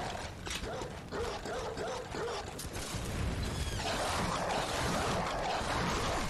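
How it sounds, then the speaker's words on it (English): Several dogs bark and yip in a dense, busy scene from the video game Bloodborne, layered over clanking mechanical game noise, loud and continuous throughout. "This is way too many dogs!"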